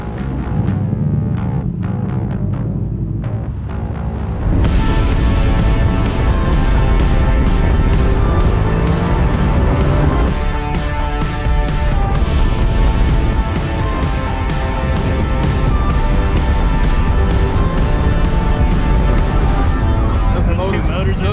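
A 1967 Camaro roars alongside an MTI boat powered by Mercury Racing QC4 turbocharged motors, loud, dense engine and water noise filling the whole stretch after a quieter opening, with a voice speaking over it.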